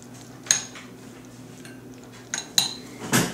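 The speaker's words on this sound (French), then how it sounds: "Maintenant, vous mélangez le beurre de pinot aux pâtes." Metal utensils mixing butter into cooked pasta in a pan or bowl, with several distinct clinks and scrapes spaced out over a low steady background hum.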